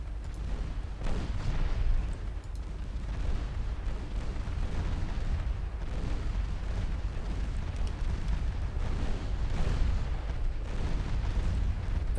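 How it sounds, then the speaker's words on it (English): Naval guns fire on a light cruiser in the Ultimate Admiral Dreadnoughts naval game, a dense, continuous rumble of booming shots and explosions that stays loud and heavy throughout with no talking. "Setting the guns to fire at the light cruiser."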